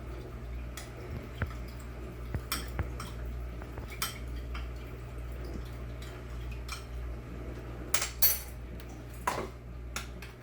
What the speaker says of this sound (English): I tend to stir all this together before I add flour